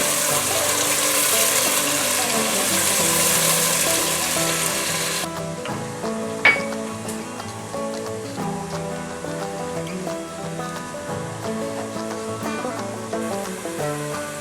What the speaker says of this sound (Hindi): अब इसको फ्राई करेंगे थोड़ी देर के लिए